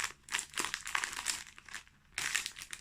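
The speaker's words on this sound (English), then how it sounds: "Sorry for the rattly bags." Crinkly bags holding fabric rattle and crunch in quick, close bursts, with a short lull in the middle before another loud crinkling rush.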